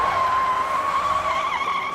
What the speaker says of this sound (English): once that heavy car starts to fishtail, it's all over